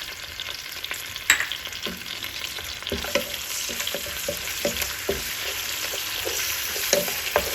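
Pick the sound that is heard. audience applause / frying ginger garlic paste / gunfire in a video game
frying ginger garlic paste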